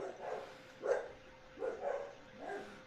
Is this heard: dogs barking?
yes